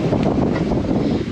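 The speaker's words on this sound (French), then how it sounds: "le vent forcit un petit peu" Strengthening wind buffets the microphone on a sailboat crossing solo at sea between Sicily and Sardinia, a loud, continuous roar with no voices.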